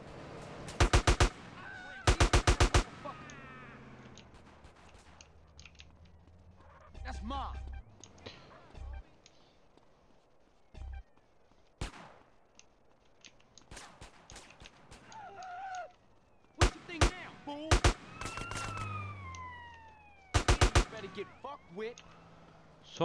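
Gang-war gunfire in GTA San Andreas: several loud bursts of rapid shots crack out at intervals across the stretch, with someone talking between and over them.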